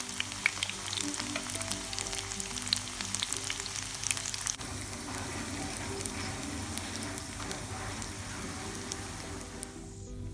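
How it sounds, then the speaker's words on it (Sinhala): Samosas deep-fry in oil with a dense, continuous bubbling crackle throughout, steady and close, with no talking. "දැන් මම හදන්නේ සමෝසා ටික බෙද ගන්න."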